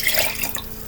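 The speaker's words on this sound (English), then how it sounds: "I'm going to pour my water" Water poured from a container into a glass while making a DIY lava lamp craft, a short steady splashing trickle heard up close with no talking.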